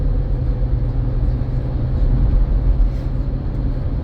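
2006 Chevy Equinox accelerating on a test drive, with a steady low engine drone and road rumble at moderate loudness from inside the cabin, continuous and without talk.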